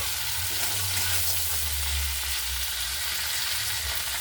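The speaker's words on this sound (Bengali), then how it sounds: "আমি ভেজে নেব কাঁকড়াটাকে আমি ভালো করে সুন্দর করে লাল লাল করে ভেজে নেব" Crab pieces fry in a pan of hot oil, giving a loud, steady, close sizzle that runs unbroken throughout with no voices.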